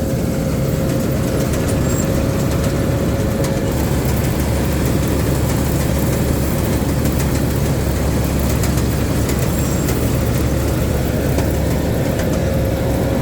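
The Isuzu 175 turbo engine of a Tamco Z3000 combine harvester idles at around 1,500 rpm, a steady, close, continuous low drone with a constant hum and no talk.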